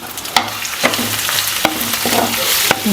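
Onions and curry leaves sautéing in a hot pan, a close, loud sizzle broken by sharp spatula scrapes and stirring knocks every half second or so.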